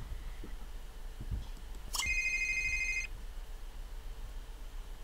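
A phone ringtone from the life-simulation video game The Sims 3: one bright electronic tone holds for about a second in the middle, with faint background hiss on either side.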